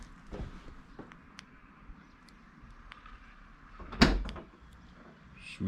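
Central locking on a Mercedes-Benz W220 unlocking after a vacuum pump replacement, heard as a single sharp clunk partway through against a quiet background.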